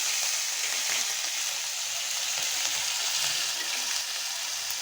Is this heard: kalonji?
yes